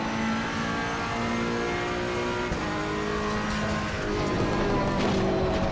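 A race car engine in Assetto Corsa Competizione on PlayStation 5 roars continuously at high revs during a lap, with the pitch shifting as it accelerates and changes gear.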